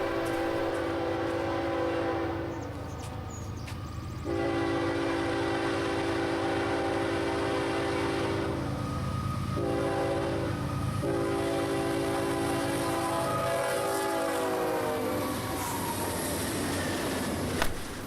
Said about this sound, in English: Here we see eastbound hotshot and roll train 22K with a GEVO for power today.